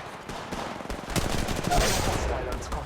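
Sustained automatic gunfire from an Apex Legends match, dense overlapping shots and impacts running loud and continuous for the full few seconds with no voices over it.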